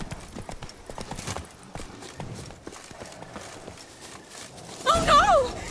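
Roach, the horse in The Witcher 3, gallops with quick rhythmic hoofbeats on the ground, and a horse whinny rises near the end along with a brief spoken voice.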